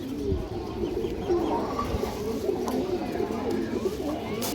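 Old-bloodline big-headed pigeons coo steadily in a close chorus of overlapping low, rolling calls, with chirps and some faint voice sounds mixed in.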